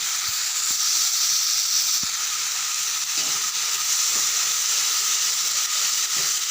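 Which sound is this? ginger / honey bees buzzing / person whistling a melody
ginger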